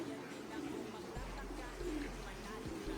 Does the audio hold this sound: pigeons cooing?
yes